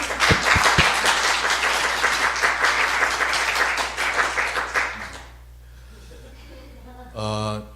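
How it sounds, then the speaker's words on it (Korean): A church congregation applauds during a worship service, a loud, full round of clapping for about five seconds that fades into room hush, followed by a brief tonal sound at the end. "우리 박수로 격려합시다."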